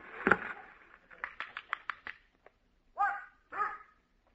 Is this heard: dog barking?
yes